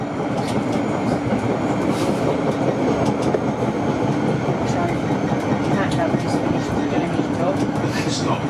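An A-class tram travels along the St Kilda light rail in Melbourne with a continuous close rumble of wheels on rails and occasional clicks and squeaks. Voices can be heard faintly beneath the running noise.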